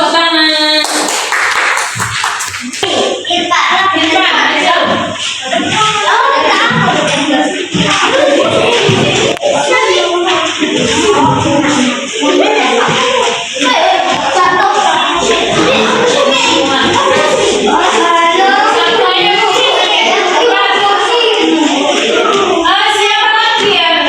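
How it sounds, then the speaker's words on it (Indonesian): Classroom students clapping together, loud and close with rapid irregular hand claps and taps, children's voices and chatter mixed in throughout. "Bagus, beri tepuk tangan."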